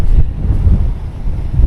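Strong wind buffets the microphone in steady, loud gusts near a cliff by the sea, a continuous low rumble with no voices, heard while riding along on a Koowheel electric skateboard.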